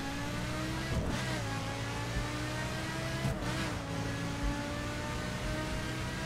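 A fast car's engine drones steadily in the racing video game The Crew, with two brief shifts in pitch as gears change or revs dip, loud and continuous throughout.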